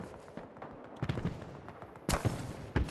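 Distant bursts of gunfire in Battlefield 2042 on a snowy Queen Maud Land map, fired from an MV-38 Condor gunship's 7.62 mm minigun pod. Scattered sharp cracks and rattles sit over a low, steady background rumble.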